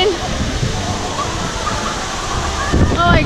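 Jogini Falls roaring loudly and steadily, its water blown by the wind into spray, with a voice rising faintly over the rush near the end.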